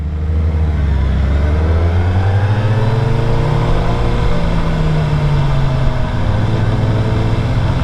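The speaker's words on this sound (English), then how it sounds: "I'm really like feathering this throttle right now" A 2022 Suzuki Hayabusa motorcycle engine with the throttle feathered, a loud continuous drone whose pitch rises and falls gently as revs are held and eased, steady with no talk.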